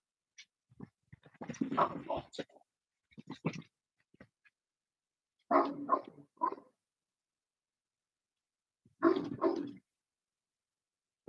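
A dog named Ruger gives several bursts of close barking, each a short cluster of sharp yaps separated by quiet pauses, with the loudest groups arriving near the middle and toward the end.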